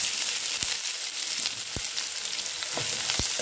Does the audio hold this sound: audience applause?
no